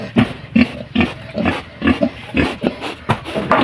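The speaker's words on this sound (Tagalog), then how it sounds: "Ayan yung baboy namin." A pig grunts in a pen in a run of short, rhythmic snorts, about eight to ten close, fairly loud grunts at a steady pace.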